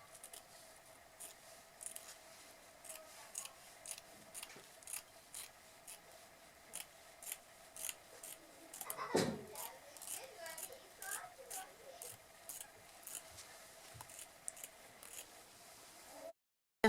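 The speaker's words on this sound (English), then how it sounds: "So I'm just going to cut one more." Scissors snip through folded tulle netting for a millinery fascinator flower, giving a quiet steady train of small cuts and rustles behind soft talk, with one louder crinkling swipe midway.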